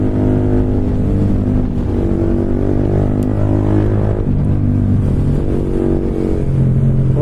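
Loud motorbike exhausts rev and drone steadily during a night ride with several bikes, including a 390 and an MT-15, a continuous close engine roar with rising and falling throttle and no talk.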